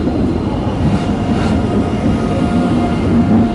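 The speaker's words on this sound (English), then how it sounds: "There it goes. There must be, this is a huge train" A huge passenger train on a railway in Sweden rolls past in a steady, dense rumble and roar that holds evenly throughout, with no talking.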